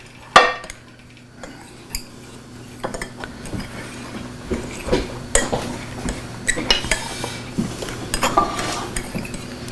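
A fork clinks and scrapes against a dish while food is dipped, giving scattered light metallic taps, close by. A faint hum sits underneath, and the clinks grow busier toward the end.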